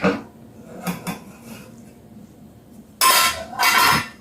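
A soda bread pan is lifted and set onto a cooling rack, giving a clatter at the start, a couple of light knocks, then two louder metallic scrapes and clanks near the end.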